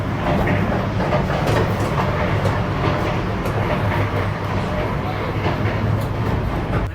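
A Nairobi to Mombasa train runs steadily from inside a carriage, giving a continuous low rumble with faint rhythmic clicking on the rails.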